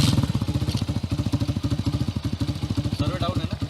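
A custom cafe racer motorcycle engine runs close by with a steady, throbbing beat, while people talk over it.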